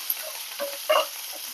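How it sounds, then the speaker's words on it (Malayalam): Steady sizzling of onions, green chilies and curry leaves frying in hot oil, with brief louder crackles and a short stir near the middle, fairly close. "നന്നായിട്ട് വറുത്ത് കൊടുക്കാം"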